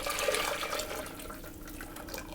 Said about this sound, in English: I'm going to put the liquid back into my saucepan